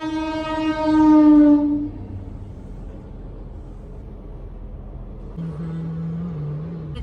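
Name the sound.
train passing a closed railway level-crossing gate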